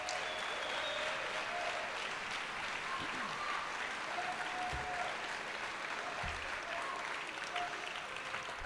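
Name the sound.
applause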